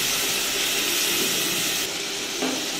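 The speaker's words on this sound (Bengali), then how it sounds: "এবার মশলাটা এইভাবে ভালো করে নাড়াচাড়া করতে হবে।" Spice masala with a little water being stirred in a hot pan for a bhindi curry, giving a steady, loud steamy hiss with faint stirring underneath and a slight drop in intensity near the end.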